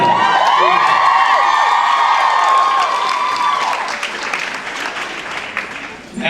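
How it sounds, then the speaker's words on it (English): A convention audience at a panel breaks into loud sustained applause mixed with cheers and whoops, filling the room before slowly fading toward the end. "the applause ruined my jokes"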